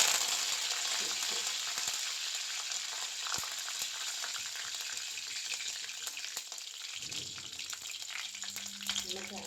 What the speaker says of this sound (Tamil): கடுகு பொரிஞ்சிருச்சு, இதில் கருவேப்பிலை போட்டுக்கலாம்.